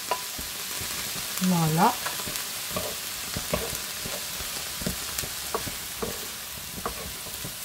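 Celery and corned beef for a stew fry in a pan, a steady dense sizzle held close and even throughout, while a brief spoken word and a short rising vocal sound come early on.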